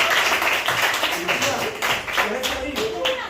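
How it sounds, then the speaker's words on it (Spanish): A primary school class applauding a classmate, with brief scattered clapping heard under an adult's voice asking a question. "Le damos un fuerte aplauso a Gabriela."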